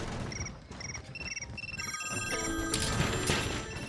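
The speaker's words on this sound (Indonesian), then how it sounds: "Dan tiba-tiba handphone pun berbunyi bersamaan" Many mobile phones strapped to a woman's body ring together as alarms in the film The Silence, a loud dense layer of electronic ringtones and beeping melodies building up over a few seconds.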